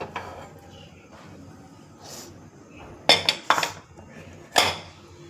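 A metal cake tin for an eggless butter cake is set down inside a heated kadai on a stand, giving a few sharp metallic clinks and clatters over a quiet kitchen background.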